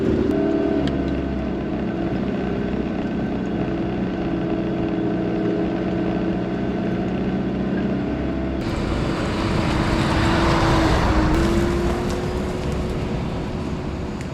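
A 4WD crawling in low range second gear over a shaly, rocky, dusty bush track near Canberra, engine humming steadily up close, then a burst of harsher roaring and crunching as the wheels spin partway through.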